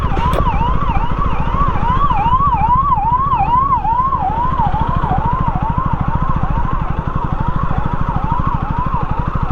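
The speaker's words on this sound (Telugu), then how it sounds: "అంబులెన్స్" Wailing ambulance siren sweeps up and down in a steady repeating cycle, loud and continuous over constant road and wind rumble during a road test of a 2024 KTM Duke 250 motorcycle.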